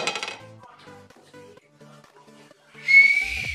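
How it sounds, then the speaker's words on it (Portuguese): A short, shrill whistle blast comes near the end, loud and close, after a quieter stretch of faint tonal sounds. "Cadê meu apito?"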